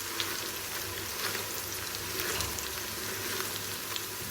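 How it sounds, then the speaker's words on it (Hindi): Whole spices being stirred into camel meat in a karahi for namkeen gosht, giving a steady close sizzle and frying crackle with soft scraping throughout, no talking. "ये इसमें चला गया जी, और इसको एक दफ़ा अच्छे से हिला देंगे।"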